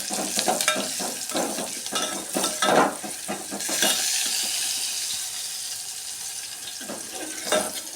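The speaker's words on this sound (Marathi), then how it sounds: "चांगला असा हलवून घ्यायचं." Turmeric and asafoetida are stirred in a hot pan for kadhi vada, a ladle scraping and clattering against the metal in quick close strokes over a light sizzle, then easing into a softer frying hiss.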